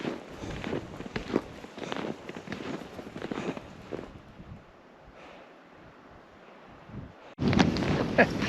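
Wind sweeps across a frozen lake during a snowshoe walk, gusty buffeting and rumbling against the microphone mixed with soft crunching steps, easing midway and then surging back strong near the end.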